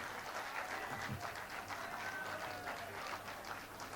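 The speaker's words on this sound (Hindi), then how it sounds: "एक जोरदार तालियां हो जाएं तिग्मांशु सर के लिए" A crowd at a media festival gives a round of applause, a continuous even patter of many hands clapping at moderate distance, fairly quiet and unbroken throughout.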